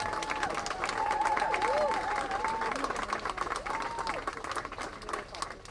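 Crowd applause at an outdoor community unity vigil organised by a mosque and an anti-racism group, sustained clapping for several seconds with a voice speaking faintly over it.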